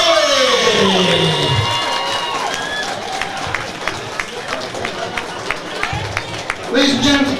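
A crowd at an all-female boxing show claps, cheers and whoops after a bout's decision is announced, loud at first, then settling into steady scattered applause before swelling again at the end.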